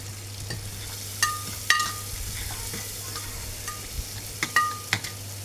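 Long-sliced medium onions fry with cumin in a pan for a Malwai-style ridge gourd sabzi, a soft sizzle under a steady low hum, with a few sharp spatula clinks.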